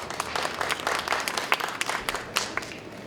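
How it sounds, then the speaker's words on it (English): An audience at a startup talk in Armenia claps for a few seconds, a dense patter of many hands with sharp individual claps rising out of it, fairly close and without talk. "please give a round of clap"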